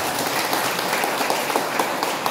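Church congregation at a Christmas service clapping together, a dense continuous burst of applause filling the room at fairly high volume.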